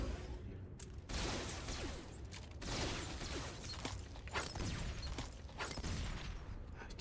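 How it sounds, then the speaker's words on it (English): Grenades and gunfire explode during an Order 66 raid in a Star Wars video game, a dense, continuous barrage of booms and crackling blasts lasting throughout with no pauses. "Too many grenades, I swear."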